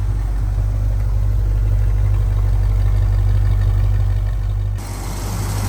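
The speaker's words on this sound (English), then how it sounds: "I can go ahead and talk over the engine running for you" A 1966 Ford Mustang with a 289 V8 and C4 automatic idles steadily with a deep, even rumble, the level dipping slightly near the end.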